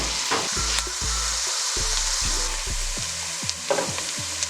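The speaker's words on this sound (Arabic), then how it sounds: "بنزل عليهم بالبصلات، وبحركن وبنطرن حتى يدبلوا شوي" Onions sizzling in hot ghee as they are stirred, a steady close frying hiss broken by repeated scraping and tapping knocks of the spoon against the pan, with no one speaking.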